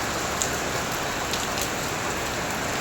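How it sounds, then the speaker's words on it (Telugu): Heavy rain pours steadily during a storm, a dense, loud, continuous hiss of drops drumming on surfaces with a few sharper spatters, no voices. "చూడండి వర్షం అయితే గట్టి కొడుతుంది"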